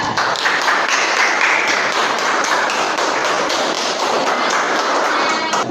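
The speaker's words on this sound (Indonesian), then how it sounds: "Kasih tepuk tangan untuk kelompok 2." Dense, steady applause from a classroom audience for a student group after their presentation during a PPG PAI teacher performance exam at UIN Sunan Ampel Surabaya, sustained close-up clapping with no voices over it.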